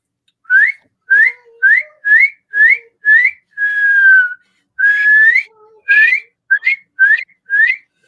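A person whistles in imitation of birdsong, a close, loud series of short rising chirps in a steady rhythm, broken by a couple of longer sliding notes and ending in more quick chirps.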